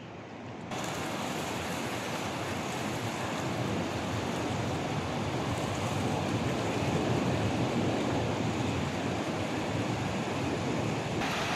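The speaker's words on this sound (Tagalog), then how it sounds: "Ayan, isa yung alon no." Ocean waves wash onto a shore in Samar as a steady, broad roar with gusty wind noise across the microphone, continuous and fairly loud, with no voices.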